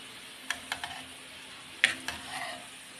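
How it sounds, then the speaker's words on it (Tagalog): Soft sizzling of potatoes and carrots frying in a pan, with scattered clicks and scrapes of stirring, close by and fairly quiet. "Prito ko na ang patatas at ang carrots"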